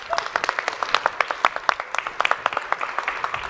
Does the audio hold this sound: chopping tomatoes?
no